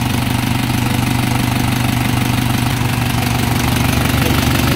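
A second-hand Isuzu Elf mini dump truck diesel engine, Japan surplus with 4JG2 or 4HF1 engine, idles steadily up close, a constant low rumble with an even knocking throb and no voices.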